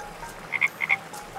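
A small frog gives two quick pairs of short, bright croaks, close and clear against a quiet background.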